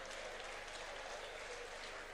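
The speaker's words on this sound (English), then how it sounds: "Can we give her a round of applause?" Audience clapping at a development workshop, a brief even patter of applause from a seated crowd, fairly faint and continuous.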